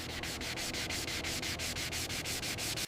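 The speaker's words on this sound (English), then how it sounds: "Hand sanding removes rough tool marks while preserving the details." Hand sanding of a miniature decorative sculpture in a workshop: a steady, close abrasive rasp repeated in quick even strokes, about five per second, continuous and without talk.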